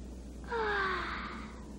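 A cartoon character's yawn from the animated film The Little Prince, a single drawn-out breathy exhale rising then easing off over about a second, close and alone.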